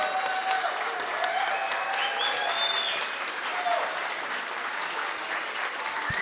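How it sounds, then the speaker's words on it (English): Audience at a fireside chat with an independent presidential candidate claps in a big round of applause, a sustained, even roar of many hands from start to finish, with a voice briefly heard. "big round of applause"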